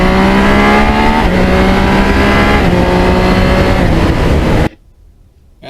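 A loud Yamaha MT-09 (2020) motorcycle engine revs up, its pitch climbing through the gears, then cuts off abruptly into quiet.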